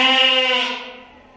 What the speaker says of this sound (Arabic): هذه 36 خروف